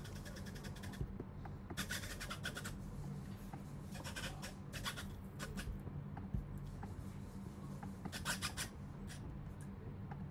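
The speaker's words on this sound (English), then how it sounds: "We notice that the foot is scratching on the ground" A Nybble robot cat's foot scratches against the ground while the robot leans down. It gives faint, quiet bursts of rough scraping that repeat irregularly over a low background hum, with no talk.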